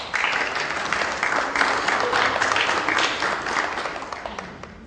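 An audience applauds university and business-school laureates at a research and development workshop, with loud, sustained, dense clapping that fills the room from start to finish without letting up.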